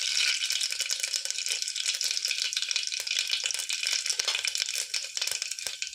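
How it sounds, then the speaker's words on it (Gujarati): Mustard seeds and cumin sizzle and crackle steadily in hot oil, a bright, close frying hiss with rapid popping seeds throughout, and no voices. "તો આપણે એમાં રાઈ જીરું નાખીશું."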